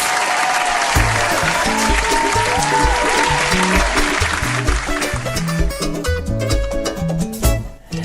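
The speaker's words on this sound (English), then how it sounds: "Now, that deserves a round of applause." Applause from a studio audience marking the 15th episode of a talk show, steady and full through the clip, with tonal musical elements running underneath.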